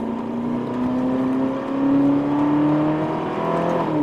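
A Ferrari California T with a 560 cv engine accelerating from inside the car, a loud continuous rising engine tone climbing steadily in pitch as it gathers speed.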